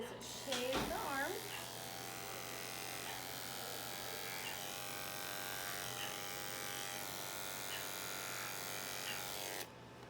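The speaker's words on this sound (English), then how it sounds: "the first thing you're going to do is shave the arm" Electric clippers shave a dog's foreleg over the cephalic vein before catheter placement for a spay, a steady close buzzing that runs for nearly ten seconds after a brief initial clatter.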